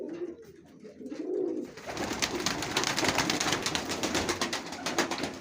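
Pigeons coo softly at first, then a burst of flapping wings and scuffling rushes in close and loud, continuing busily to the end.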